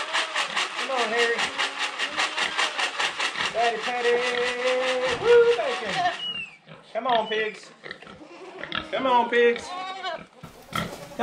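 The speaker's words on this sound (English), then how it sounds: "Come on, pigs." Pigs on a farm, urged toward market, give loud rhythmic grunts and oinks close by, first in a steady pulsing run and then as scattered squeals and snorts. A person's voice mixes in.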